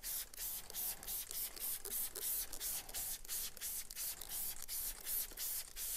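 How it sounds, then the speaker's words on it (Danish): Goodstuff fabric cleaner sprayed deep into the fabric of a car floor mat, giving a rapid series of short, hissing spray bursts, close and fairly quiet, with no talking. "man kan simpelthen lige spraye den ind godt ned i stoffet her"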